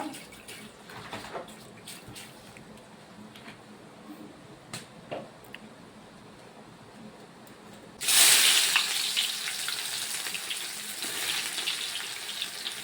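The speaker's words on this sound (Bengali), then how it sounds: "কড়াইতে সরষের তেল গরম হচ্ছে" Mustard oil heats in a wok while meat is cooked for a school teachers' feast. The kitchen is fairly quiet at first, then a loud, steady frying sizzle breaks out partway through and carries on to the end.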